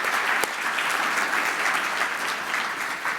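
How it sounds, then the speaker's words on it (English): Audience at an awards luncheon giving a round of applause, dense continuous clapping filling the room at a steady, fairly loud level. "so we can recognize you today with a round of applause"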